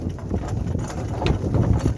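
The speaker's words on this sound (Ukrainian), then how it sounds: "зараз покажу як з горба коні йдуть" Draft horses' hooves clop unevenly as they walk downhill, under heavy wind rumble and outdoor noise, with a few sharper hits standing out.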